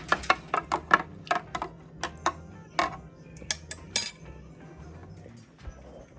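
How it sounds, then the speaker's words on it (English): A spoon stirring red wine vinegar into a glass of drink mix, a rapid series of bright clinks against the glass, then slowing to a few isolated taps, close and clear. "So I'm adding about a tablespoon of the red wine vinegar and just stir that in."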